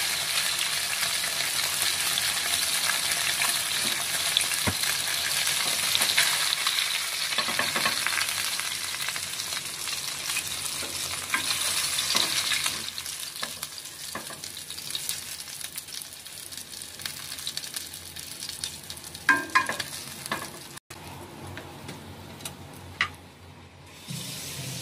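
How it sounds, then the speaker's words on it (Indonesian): Garlic fries in a small amount of oil, a steady bright sizzle that gradually softens, with occasional stirring clicks and clatters against the pan. "Goreng bawang putih tadi ya."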